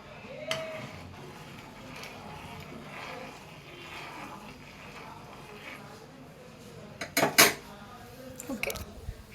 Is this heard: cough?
no